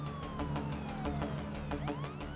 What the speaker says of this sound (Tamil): என்னடா அது நம்ம ஏரியால போலீஸ் வண்டி